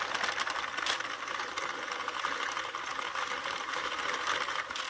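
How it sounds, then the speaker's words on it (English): A Sentro 48-pin circular knitting machine is cranked with no yarn: a steady, dense plastic whirring and clicking rattle that runs unbroken and fairly quiet the whole time, with no talking. "we'll run it through twice with no yarn to take this baby off of the loom"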